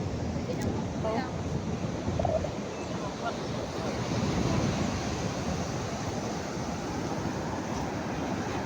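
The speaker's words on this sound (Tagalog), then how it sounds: "Ang lakas ng alon." Strong ocean waves crash and roll continuously, with wind rushing across the microphone.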